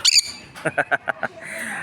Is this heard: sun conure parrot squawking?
yes